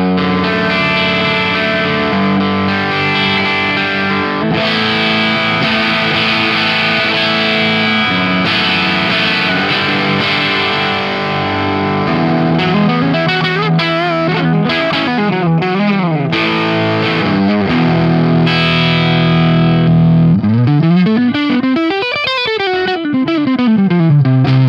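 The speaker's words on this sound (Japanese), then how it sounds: "またさっきと同じようにちょっと歪みを少し上げてみますね。" Les Paul electric guitar played through an Organic Sounds overdrive pedal with the gain turned up, giving loud sustained distorted chords and riffs that end in rapid sweeping bends and warbling runs.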